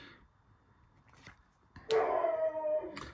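A dog gives a short, faint distant yelp, then a louder drawn-out howling bark, with quiet room tone around it.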